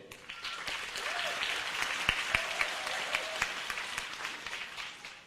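A room full of people at a high school graduation ceremony applauds steadily, with individual sharp claps popping out of the continuous rattle, and a few voices murmuring underneath.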